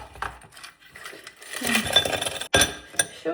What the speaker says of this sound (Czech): Tak, sklinka s ledíkem.